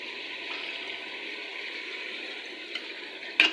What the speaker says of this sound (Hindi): थोड़ा सा मैंने इसमें पानी डाला है।